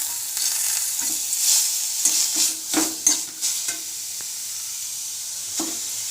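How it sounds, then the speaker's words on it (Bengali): Finely chopped beetroot is lightly fried in a pan, a steady sizzle broken by repeated scraping stir strokes that swell and fade in irregular bursts, then settles to an even hiss; no talking. "যে বিট কুচিয়ে রেখেছিলাম ওই বিট কোচানোটা আমি হালকা ভেজে নিচ্ছি।"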